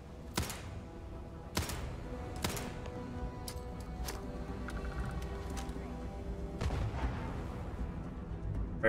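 Grenade explosions in Starfield, a few loud, sharp booms spaced apart against steady game noise, with a player talking between them.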